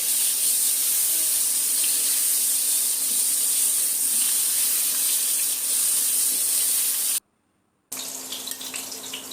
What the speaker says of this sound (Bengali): আমি এখন কড়াইয়ে তেল দিয়ে দিচ্ছি, দিয়ে আলুটা ভেজে তুলে নেব